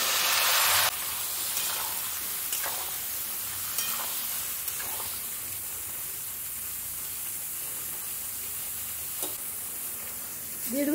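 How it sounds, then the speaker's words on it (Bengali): Bottle gourd pieces added to fried spice paste in a pan, with a loud burst of sizzle at first that settles into a steady hiss, broken by occasional stirring scrapes and knocks. "এরপরে লাউগুলো দিয়ে দেবো।"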